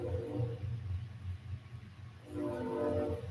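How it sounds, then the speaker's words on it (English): Train passing by, a steady low rumble and rolling clatter at a moderate distance, with a soft tonal horn-like swell near the end. "There goes that train."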